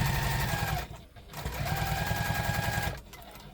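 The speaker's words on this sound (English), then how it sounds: "we're going to sew up here with the seam allowance." A sewing machine sews straight across the layered seam allowance of a tote bag in a fast, steady, close whirr. The stitching pauses briefly twice and then resumes.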